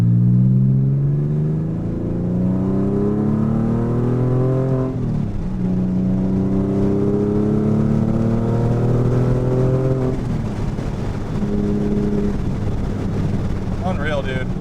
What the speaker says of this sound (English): I wasn't even hitting it hard, and next thing you know, we're doing 75 miles an hour.